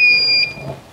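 A solar inverter sounds its low battery alarm at 9% charge, giving a loud, shrill two-tone electronic beep that holds, breaks off, then starts again near the end. There are no voices.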